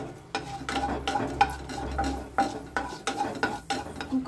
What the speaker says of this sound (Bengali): এবার এতে আমি অল্প একটু মেথি ফোড়নে দিয়ে দিচ্ছি।